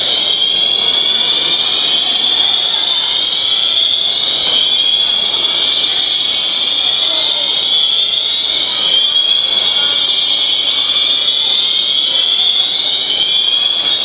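A fire alarm blares continuously at Holyoke Mall, a shrill, high-pitched pulsing siren filling an indoor space, with faint voices underneath.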